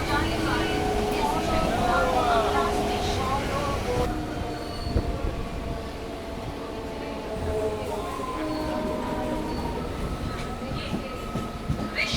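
A local train on the Howrah to Bandel line rumbles steadily along the rails with wheels squealing at times, while people talk over the noise.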